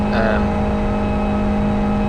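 A City League race car runs on track during a 24-hour endurance race, its engine a steady, unbroken drone throughout, with a brief faint voice near the start.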